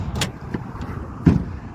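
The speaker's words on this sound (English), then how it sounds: "Tailgate's not dampered, so that does just fall." The undamped tailgate of a 2008 Toyota Tacoma drops open, a few light clicks and rattles followed by a short, heavy thunk close by.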